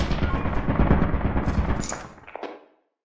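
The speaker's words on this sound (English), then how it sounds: "There's another sentry gun right there." A sentry gun in a video game firing a rapid, close burst of automatic shots that rattles for about two seconds before tapering off into silence.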